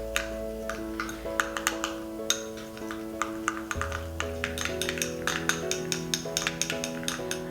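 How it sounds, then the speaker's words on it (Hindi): A spoon clinks and scrapes in a small bowl as skin whitening paste ingredients are stirred, making light rapid taps and ticks over steady background music. "अब हम सारे इंग्रेडिएंट्स को अच्छी तरीके से मिक्स कर लेंगे।"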